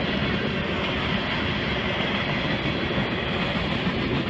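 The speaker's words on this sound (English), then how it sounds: "This train, which I assume is Q560, had an interesting surprise at the rear of the train." A Metro North M8 EMU passenger train rolls past close by at the rear of freight train Q560, with a steady, loud roar of wheels and faint clickety-clack on the rails throughout.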